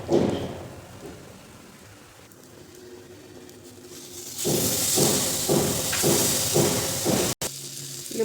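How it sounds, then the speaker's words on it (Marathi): Lemon juice squeezed into a hot turmeric and asafoetida tempering for lemon rice, starting as a soft background sizzle and then bursting into a loud, crackling hiss that continues to the end with a brief cut near the finish. "आपण आता फोडणीमध्येच लिंबू पिळून घ्यायचे"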